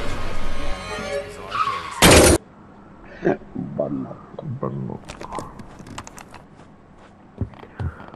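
A car in the video game Nadine Simulator revs and accelerates, then lets out a short, loud skid burst, followed by scattered clatter and voice-like game sounds.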